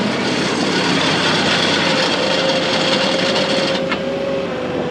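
A tractor engine revving up, giving a steady loud mechanical drone with a faint rising whine, heard close and uninterrupted throughout, with no talking.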